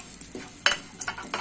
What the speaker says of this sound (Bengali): আমি এখন সবগুলো মশলা একসাথে ঢেলে দিচ্ছি।